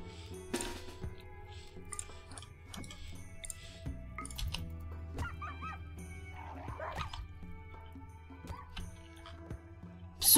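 A dog in the video game RimWorld barks, yips and whimpers while a puma attacks it, the yelps coming in uneven bursts over a busy, steady game soundscape.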